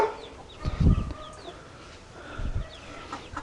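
Farm chickens cluck in a couple of short, close bursts against a quiet outdoor background, with faint bird calls between them.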